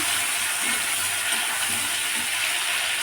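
Chopped tomato frying in a pan while cooking a fish dish, giving a steady, fairly loud hiss and sizzle that holds evenly throughout without talk.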